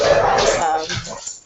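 Two pet dogs playing together give loud, close whining whimpers and small yips in a quick tumbling burst, trailing off to quiet at the end.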